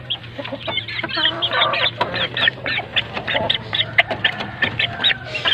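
Three-month-old chickens sick with fowl pox cluck repeatedly at close range, short bursts overlapping in an uneven rhythm over a low steady background hum.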